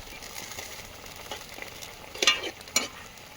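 Vegetable curry with boiled potatoes frying in a pan and being stirred, a steady close sizzle broken by a couple of sharp scraping strokes of the spatula near the end, with no talking.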